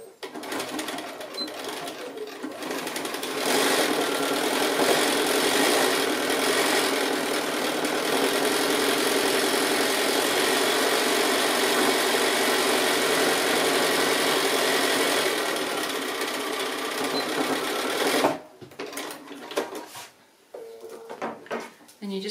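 A sewing machine runs a long continuous row of stitching on a quilted gift bag made from leftover quilt blocks, a loud steady whir that stops abruptly near the end, followed by brief handling noises.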